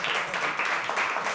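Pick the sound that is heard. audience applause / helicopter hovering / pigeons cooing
audience applause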